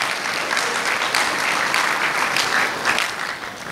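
Applause at a student leaders' gala dinner, a sustained, full round of clapping from a large audience in a hall, steady and moderately loud throughout.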